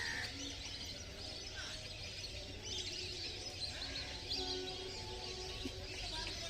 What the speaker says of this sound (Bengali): বা পাখির কিচিরমিচির আওয়াজে